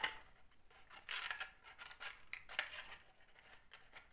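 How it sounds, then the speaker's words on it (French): Scissors snip through paper for a small craft box, several crisp close cuts in an uneven rhythm, quiet and alone without speech. "on a coupé ici jusqu'au pli"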